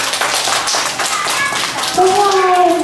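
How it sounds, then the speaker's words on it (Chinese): Parents and audience clap after a kindergarten stage play in Beitou, Taipei: a close, lively burst of applause lasting about two seconds, then a voice begins speaking over the fading claps. "请掌声鼓励"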